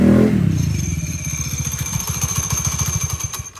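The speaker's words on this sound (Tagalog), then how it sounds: "Ang ingay din ng makina ko eh." A Honda Click V3 scooter with a dry clutch idles up close, a loud, rapid, rattly engine putter with clattering mechanical chatter and a faint high whine, running steadily alone.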